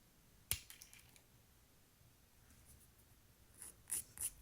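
Press-on nails being cut to length: a sharp clip at the start, then a cluster of quick snipping clicks near the end, close and crisp over quiet background.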